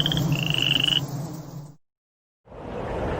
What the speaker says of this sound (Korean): 방과 지붕 위에도 수많은 개구리들이 뛰어다녔어요.